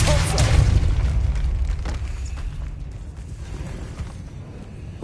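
Depulso force-push spell cast in a Harry Potter video game inside a tomb, a deep booming blast that hits hard at the start, then rumbles and fades over several seconds.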